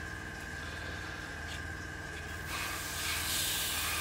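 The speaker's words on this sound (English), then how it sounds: "I'm not spraying too heavily, very light coats, getting everything in." An airbrush sprays light coats of paint onto an Airfix 1/72 McDonnell Douglas Phantom FG1 model kit, a steady soft hiss that grows slightly louder partway through, with no voices.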